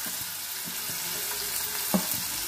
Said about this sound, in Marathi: आता आपण कांदा टाकून घेणार आहोत। कांदा छान परतून घ्यायचा आहे।